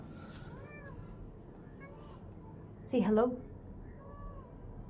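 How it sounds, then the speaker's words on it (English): A house cat gives one short, clear meow close by, preceded by faint chirps, while someone talks softly in an apartment. "And that's my cat."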